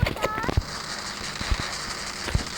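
Gunshots in the Free Fire video game sound as sharp, scattered pops and cracks, several separate shots over a busy game soundtrack while a player talks.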